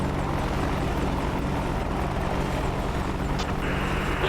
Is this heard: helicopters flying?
yes